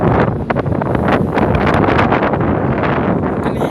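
Strong gusts buffeting a microphone outdoors at Cajon Pass, a loud continuous low rumble with rough flutters and surges, nothing else clearly audible.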